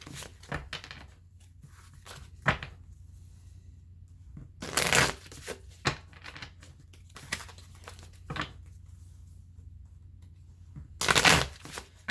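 A deck of Wildwood Tarot cards is shuffled in soft, intermittent riffles and flutters, close and fairly quiet, with a couple of louder bursts of cards slapping together between quieter shuffling.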